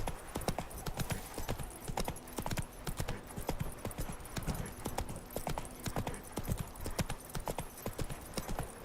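Horse hooves clip-clop in a steady, brisk rhythm as a horse travels in The Witcher 3 Wild Hunt, with dense, even beats and no voices.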